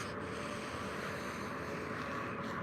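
Wind blowing outdoors at a treestand in Ohio, a faint, steady rushing noise with no voices.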